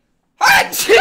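A single sharp human sneeze bursts out close and loud after a moment of silence, followed by a short spoken reaction.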